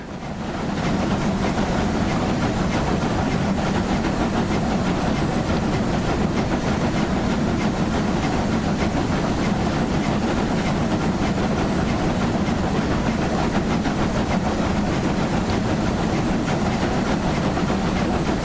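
Steam locomotive on the Brockenbahn in TSC blowing off steam at its safety valves: a steady, loud broadband hiss that runs unbroken for the whole stretch, with a faint rail rumble underneath.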